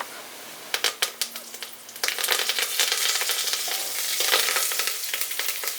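Onions and chana dal drop into hot oil, a few sharp clicks of lentils landing followed by a steady close sizzle with stirring scrapes, no voices.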